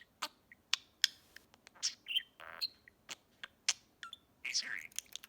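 A pet budgie chirps close by in a quick string of short, sharp tweets and clicks with brief warbles and small gaps between them. No people are talking.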